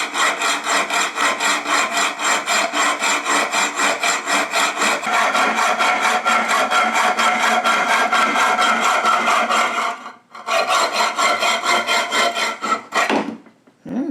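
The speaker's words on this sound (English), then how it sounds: "we're going to use a hacksaw and trim" A hacksaw trims a musket ramrod clamped on a workbench, with rapid, regular back-and-forth strokes that are loud and close. The cutting runs steadily, pauses briefly, resumes, then ends with a final scrape.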